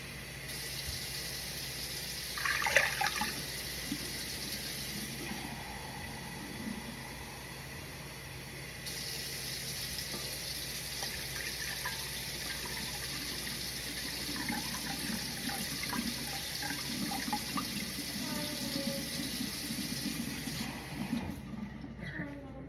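Water pours from a tap into a mixing bowl for sourdough dough, a steady running stream that starts and stops in phases with some clinking, while a person talks quietly.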